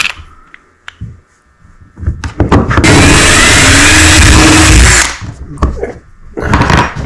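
A power drill boring holes in an Old Town Bigwater 132 PDL kayak during a Micro Power Pole install: one sustained, loud, close whirring burst of about three seconds, with handling clatter and brief motor pulses before and after.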